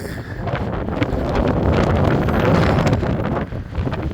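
Heavy wind buffeting the microphone on Blackpool promenade, a continuous loud rumbling roar that dips briefly near the end.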